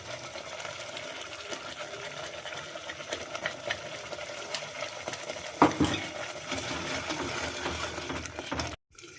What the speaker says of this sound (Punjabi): ਇਸ ਨੂੰ ਚੰਗੀ ਤਰ੍ਹਾਂ ਹਿਲਾ ਲਵਾਂਗੇ